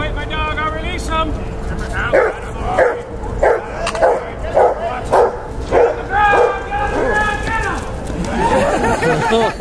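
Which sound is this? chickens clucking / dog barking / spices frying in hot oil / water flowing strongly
dog barking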